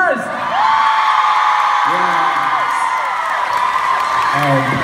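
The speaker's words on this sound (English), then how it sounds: "A round of applause" A concert crowd at a show in Boston whoops and cheers loudly and continuously, with shouts and applause filling the hall, close and dense.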